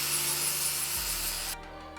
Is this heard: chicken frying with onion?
no